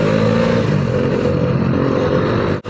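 A motorcycle engine over-revs on an Alpine ride, a loud, close, continuous mid-pitched roar with a rough clattering edge that holds steady for a couple of seconds and then cuts off abruptly at the end.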